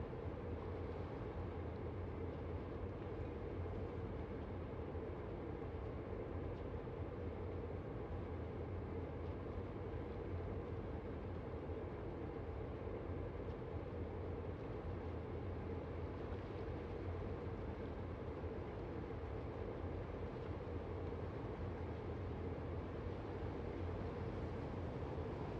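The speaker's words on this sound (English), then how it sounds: "Nice soothing sound of the trains." Trains rumbling along rails in the factory-building video game Satisfactory, a continuous low, even mechanical drone that stays steady and fairly quiet for the whole stretch, with no talk over it.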